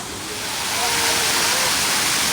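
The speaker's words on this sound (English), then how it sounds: "great big waterfall running down the middle of the mountain here" A great big waterfall runs down the middle of an artificial mountain at a mini golf course in Myrtle Beach, a loud, continuous broadband rush that swells slightly and then holds steady.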